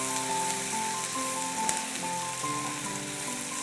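Fennel seeds tempering in hot oil at the start of a spicy yam (karunai kilangu) masala give off a steady, even sizzle with a soft crackle, fairly close and unbroken by any voices.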